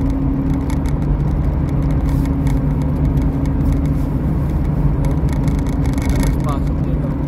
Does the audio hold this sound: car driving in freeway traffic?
yes